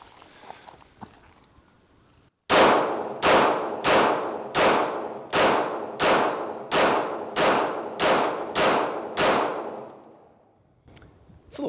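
Eleven sharp, loud shots from a SIG Sauer P320 XFive pistol fired at a shooting range, spaced in a steady rhythm roughly every 0.7 seconds with ringing tails, followed by a pause and one more report at the end.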